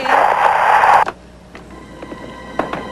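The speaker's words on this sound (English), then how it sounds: "A faulty phone connection?" A faulty telephone connection gives off harsh, loud static hiss for about a second, then cuts out abruptly, leaving a quiet line broken by a few faint clicks and crackles.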